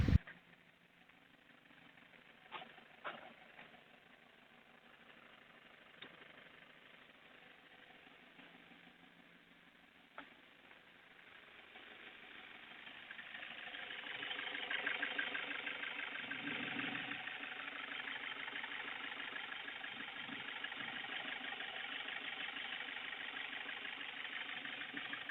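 Toyota Hi Ace 2KD diesel engine idling after repair with new piston rings, shaft and valve set, a low steady mechanical hum with a few faint clicks, swelling somewhat louder midway and holding even, no voices.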